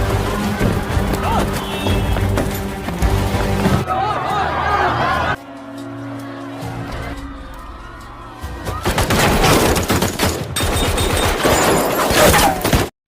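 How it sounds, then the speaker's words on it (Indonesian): Gunfire and chaos erupt in a film shootout during a chase, loud dense bursts of shots and crashes under a narrating voice, with a quieter tense stretch in the middle before the intense noise returns. "Dan akhirnya pun terjadilah aksi kejar-kejaran hingga baku tembak."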